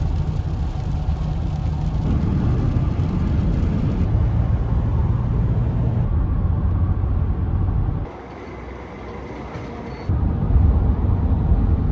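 A car cruising on a long highway road trip toward Portage La Prairie, Manitoba, fills the cabin with a steady, loud road and engine drone that softens briefly before returning, with no talking.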